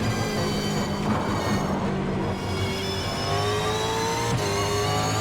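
A Super2 Series race car engine, heard onboard at Melbourne in 2020, drones steadily up close, its pitch climbing and shifting through gear changes without any break in the noise.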